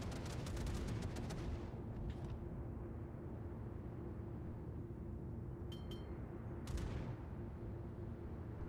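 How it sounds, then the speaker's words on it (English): A heavy naval cruiser's main battery fires in the World of Warships game, the Atago: a booming gun blast opens over a steady engine and ocean rumble, followed by a couple of faint metallic clinks and a later sharp burst. "One test shot, hoping to shoot over the islands"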